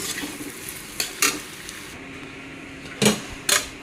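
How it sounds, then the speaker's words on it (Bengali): Potatoes that were fried earlier are stirred in a pan, with a steady sizzle beneath and sharp scraping strokes at irregular intervals, close and fairly loud. "এখন দিয়ে দিই আলু ভেজে রাখা আলু নেড়ে নেই"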